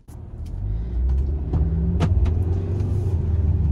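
A car revving hard during an attempted burnout, with a loud, steady low engine rumble that swells and holds throughout, plus a few brief sharper bursts layered on top.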